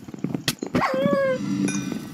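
Dog barking in a Minecraft-style video game, a couple of sharp yelping barks with a whining tone, followed by a lower growl, close and moderately loud.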